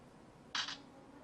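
A Casio Exilim C721 camera takes a photo, a single short electronic shutter click in two quick parts against a quiet background.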